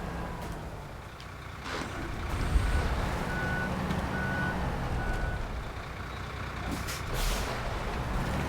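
Truck engine rumbling steadily in the video game SnowRunner, with repeated reversing beeps and hisses of air brakes over the continuous drone.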